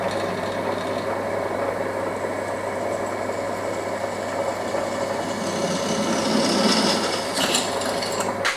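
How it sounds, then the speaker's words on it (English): A power drill runs steadily, boring through mounting holes in a panel for a battery charging setup, a continuous motor whine that swells slightly near the end, with no talk. "Just going to drill through them now."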